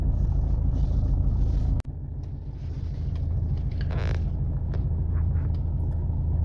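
Mercedes C220 car cruising at about 50 mph in third gear, a steady low engine and road rumble from inside the cabin, broken by one sharp click partway through.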